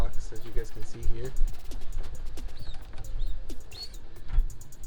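Roller pigeons in a breeding box give soft coos and chirps, faint and intermittent beneath a voice talking nearby.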